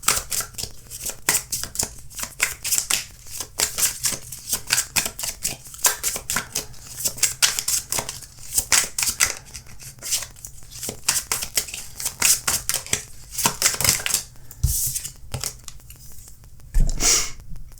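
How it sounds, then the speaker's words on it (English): Oracle cards are shuffled and pulled by hand, giving a rapid run of crisp riffling snaps and papery slaps that repeat in bursts, with a few heavier taps near the end. "Let's pull some oracle cards."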